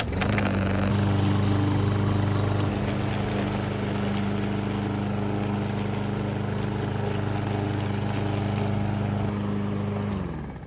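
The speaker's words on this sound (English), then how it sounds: "I'm gonna lawn mower for a little bit, see if I can break up some of these leaves" A lawn mower runs continuously in a yard while breaking up fallen leaves, a steady, close engine drone with a constant pitch that holds for the whole stretch and eases slightly at the end.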